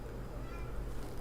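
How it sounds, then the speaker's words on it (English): A cat meows faintly indoors against a steady background hiss, while a soft, whispery voice is also present in the room. "Did you hear my cat meowing?"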